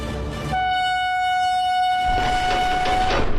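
A long, loud train horn blares as one steady tone for about two and a half seconds, followed by rumbling rail noise and clattering.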